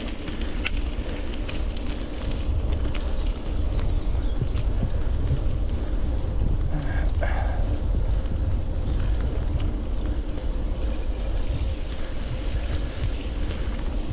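A mountain bike on Maxxis Rekon Race XC tyres rolling over a gravel track, a steady loud rumble of tyre crunch mixed with heavy wind buffeting across the whole stretch, with no talking.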